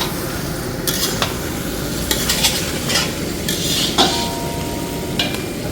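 Mutton pieces drop one by one into hot oil in a pan, each landing with a sharp burst of sizzle over a continuous loud frying hiss, along with a few clinks of a utensil against the pan.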